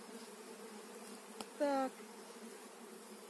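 Bees buzzing while a swarm is gathered from the ground by hand, a steady low insect hum with one brief louder tonal buzz close by, and a voice speaking briefly over it.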